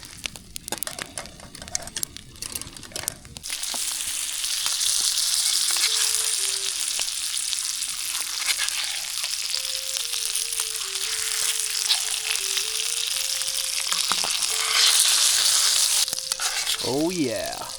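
Ribeye steak sizzling in garlic butter in a pan over a campfire, a loud continuous frying hiss with crackles and stirring scrapes after a short quieter start.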